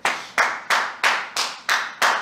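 Seven sharp, evenly spaced hand claps, loud and close, each with a short ringing decay, a steady deliberate rhythm with no other sound between them.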